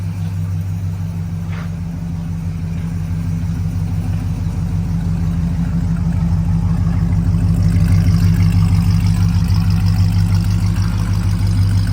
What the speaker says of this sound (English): See how it sounds out of the exhaust.